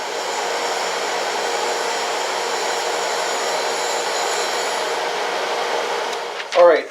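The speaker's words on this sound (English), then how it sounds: "I just run up the wheel, drag it a few times across while it's running, and that for the most part trues up the wheel" A surface grinder wheel spins at speed while being dressed and trued, giving a steady close whirring hum that fades near the end as a brief voice breaks in.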